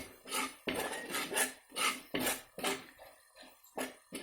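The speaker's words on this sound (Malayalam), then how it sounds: "ഫ്ലെയിം കുറച്ച് വയ്ക്കാൻ മറക്കരുത്. നന്നായി ഇളക്കി കൊടുക്കണം, ഇല്ലെങ്കിൽ കരിഞ്ഞു പോകും." A spoon scraping and clanking against a pan as fish curry is stirred over a low flame, in regular close strokes that fade to lighter taps near the end.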